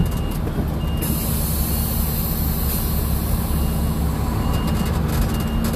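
A semi truck backs its fifth wheel under a trailer. A loud, steady diesel rumble fills the whole stretch, and a bright burst of air hiss comes in about a second in.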